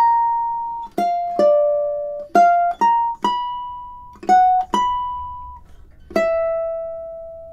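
Solo ukulele plucking measures 16 and 17 of Swan Lake, a slow run of clear single notes with sharp attacks and brief sustains, some notes quickly restruck, quiet and unaccompanied.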